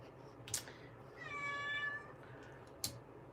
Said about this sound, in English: I don't know if you can hear, but my kitty cat Louie, he just came in.